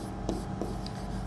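Chalk or marker writing on a classroom board during a Hindi-language biology lecture, heard as a few short, soft scratchy strokes close by against a quiet room hum.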